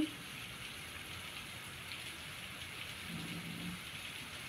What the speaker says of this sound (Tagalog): Ang lakas na naman po ang ulan.